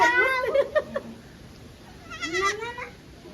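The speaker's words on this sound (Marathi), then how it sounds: "ह्या त्यांच्या शेळ्या बिळ्या आहेत बघा शेळ्या" Goats on a farm bleat in a few quavering calls, one cluster near the start and another a couple of seconds later, fairly close and clear.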